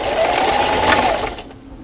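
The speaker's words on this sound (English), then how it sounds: "I'm going to start all the way at the end and back stitch" A sewing machine top stitches a fabric dust mask with a narrow seam allowance, running in one quick close burst of rapid needle chatter before stopping.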